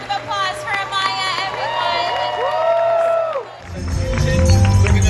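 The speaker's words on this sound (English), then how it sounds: "One more round of applause for Amaya" A convention crowd at Fan Fusion cheers and whoops, then breaks into loud, sustained applause after an Obi-Wan cosplay, with a voice calling out above the din.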